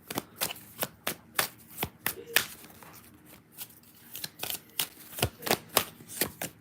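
A tarot card deck is shuffled by hand, with rapid crisp riffling and snapping bursts repeating in quick rhythm, close and clear with no talking over it.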